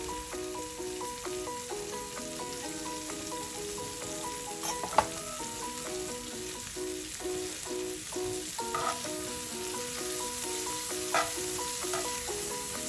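Thinly sliced green vegetables sizzle steadily in a hot frying pan, a soft, continuous crackle with occasional stirring clinks and no talking.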